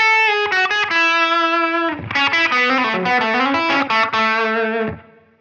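Electric guitar through a Line 6 Helix set for a smooth, sustained tone, playing a clean melodic phrase of held notes and quick runs, loud and close with no talking.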